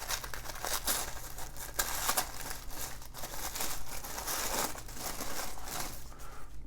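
Crinkly packaging being opened around a 20 mm grey seatbelt-style NATO watch strap, with a steady run of close rustling and crackling throughout and occasional sharper crinkles.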